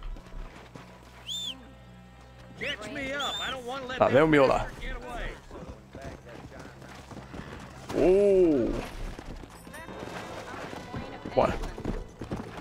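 A called horse in Red Dead Redemption arrives with clip-clopping hooves under game dialogue and a player's voice, the hoof beats swelling in two louder bursts amid creaking tack and mechanical rattles.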